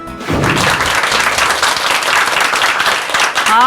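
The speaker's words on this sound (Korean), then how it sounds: "오늘 시원하게 박수를 쳐주시는데요" A lecture audience gives a burst of loud, dense applause that swells quickly and holds steady for a few seconds before tapering.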